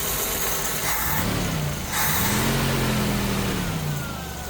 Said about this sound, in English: now that we got the fuel pressure regulator on there, it's idling pretty steady